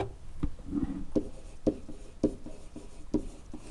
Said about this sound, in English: actually let me write that in.